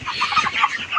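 Chickens on a raised plastic-net floor poultry farm cluck continuously and close by, several birds overlapping in short bursts.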